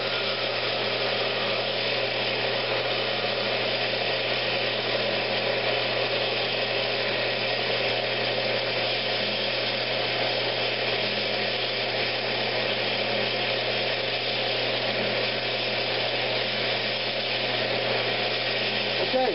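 Wood lathe turning an icicle-style finial for a Christmas ornament: a steady, continuous motor whir with a faint scraping tool cut, running unbroken and fairly close throughout.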